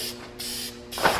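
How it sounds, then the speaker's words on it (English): Aerosol paint sprays onto a taped-up, sanded and brake-cleaned valve cover for a Nissan 240SX build, two short hissing bursts close by, the second louder, with no talk. "Taped up, good to go for sprays."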